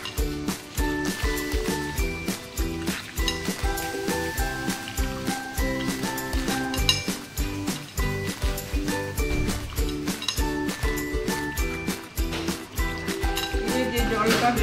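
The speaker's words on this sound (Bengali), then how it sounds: "এইভাবে চটকে নিতে হবে ভালো করে।" A banana flower mixture being mashed and squeezed by hand, a fast, even run of wet squelching pulses that continues without pause, close up, over a steady tonal background.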